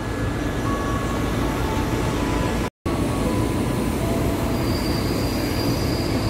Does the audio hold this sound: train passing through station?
yes